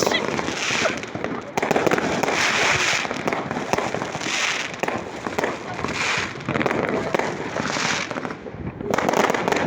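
Fireworks crackle and burst continuously nearby on New Year's Eve, a dense, loud barrage of pops and bangs with voices faintly underneath.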